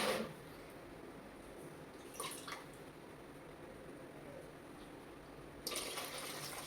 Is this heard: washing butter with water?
yes